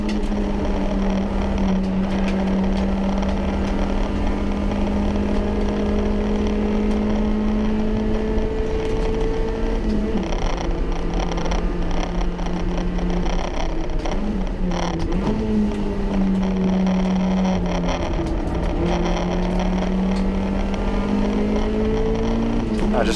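Onboard at Tsukuba Circuit, a race car's engine drones steadily and loudly throughout, its pitch dipping and climbing through gear changes and corners while it weaves through traffic toward a chicane.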